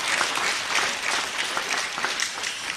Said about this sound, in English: Let us clap for them and the team behind them.